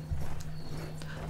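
In Battlefield 1, a warhorse gives a short whinny over the steady clip-clop of its hooves and the low hum of the game's background.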